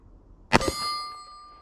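A spent .45 ACP brass casing ejected from a Tisas 1911A1 pistol lands with one sharp metallic clink, followed by a bright ringing tone that fades over about a second, close and fairly loud.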